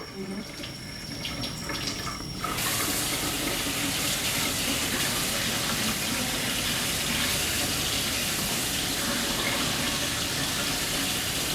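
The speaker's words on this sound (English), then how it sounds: "get your 2-cup water thing over here Okay. and fill it with warm water" Warm water gushes steadily from a tap into a two-cup measuring cup, a loud continuous rush that starts abruptly after a quiet moment and holds even to the end.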